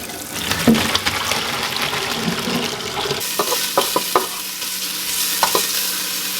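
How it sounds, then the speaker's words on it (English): Fatback browning in a pot on the stove for a traditional Appalachian New Year's meal of black-eyed peas and greens, giving a steady close sizzle and hiss with several sharp clicks and scrapes of stirring, no voices. "So I'm just starting by kind of browning my fat back that I'm using."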